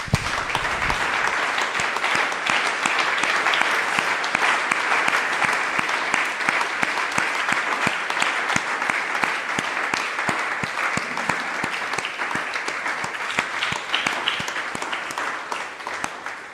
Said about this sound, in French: Une offrande d'acclamation.